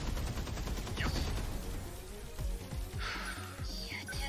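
Pulse lasers firing in the mech battle game 13 Sentinels: Aegis Rim, a loud rattling volley of quick shots with sharp electronic zaps layered over battle sounds.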